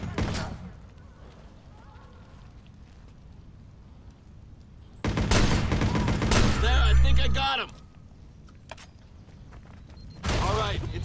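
Bursts of rapid gunfire crackle through the video game Watch Dogs, two loud volleys of a few seconds each with a brief shot at the start, over quiet game ambience.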